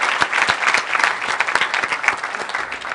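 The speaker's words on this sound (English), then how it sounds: "let's give a huge round of applause" Audience applause at an award ceremony for a conference's inaugural Test of Time Award winners: dense, steady clapping from a crowd for about three seconds, with no voices.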